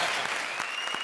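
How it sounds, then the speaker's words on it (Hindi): A studio audience at a Hindi TV comedy show applauds in a dense, steady wash of clapping that carries on throughout the short moment. "अब इसके लिए भी तालियां हो जाएं।"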